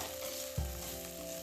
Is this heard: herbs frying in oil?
yes